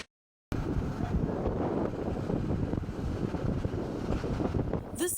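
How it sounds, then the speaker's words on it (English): Strong storm winds buffet the Central Coast of the Monterey Peninsula, a steady, loud roaring rush with heavy low rumble that begins after a brief silent moment and continues unbroken. "The sound of strong winds is a brutal reminder for people living on the Central Coast."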